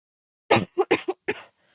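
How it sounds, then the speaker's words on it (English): A livestreamer coughs close to the mic, a cluster of four or five quick throaty coughs and clearing sounds in a burst, then silence. "Excuse my coughing."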